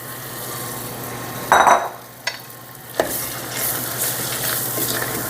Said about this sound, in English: let's go ahead and toss in our nuts, both the pecans and the walnuts